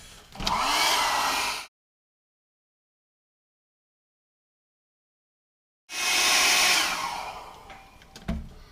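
A hair dryer blows in two separate bursts, aimed from a distance to speed the drying of alcohol ink on Yupo paper. Its airy, steady rush stops with a short silence between the bursts.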